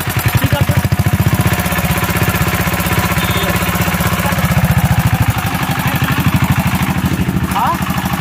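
A CD engine with an abnormal extra noise is given throttle, and its loud, close, rapid pulsing beat swells and eases slightly as it revs. A short voice breaks in near the end.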